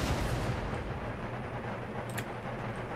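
Camel gunners fire in the Empire Total War strategy game as a dense, rumbling roar of distant musket and artillery-like volleys, continuous and loud, with a couple of sharper cracks near the end.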